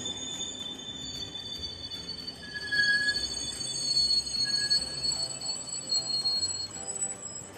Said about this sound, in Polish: Wjeżdża pociąg TLK Roztoczy ze stacji Bochumin do stacji Lublin Główny.